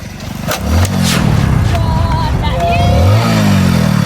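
A motorcycle engine revs and pulls away, its rumble rising and shifting pitch, with people talking and shouting over it nearby.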